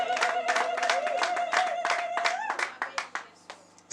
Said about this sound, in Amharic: አንድ ሰው ድልታ ጭብጨባ ለኢየሱስ ክብር ያምጣ።